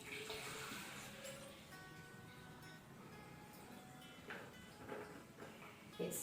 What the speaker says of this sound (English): add water leaving a gap at the top